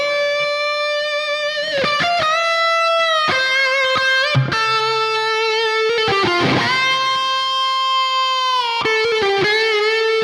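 An electric guitar on its bridge pickup plays bright, ringing melodic notes with slides and bends, close and clear with light grit, no voices.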